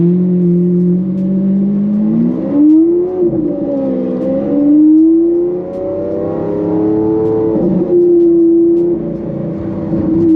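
Lamborghini Aventador LP 700-4 pulling away from a green light, its engine note rising in steady pitch climbs through gear changes, loud and heard from inside the car.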